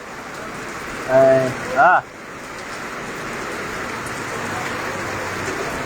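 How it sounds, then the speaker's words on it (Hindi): Heavy rain with wind in Tando Qaiser, Hyderabad, Sindh, Pakistan, a dense, steady hiss of falling rain throughout, with someone briefly speaking near the start. "तेज़ मींहुं शुरू थी वियो टंडे केसर में"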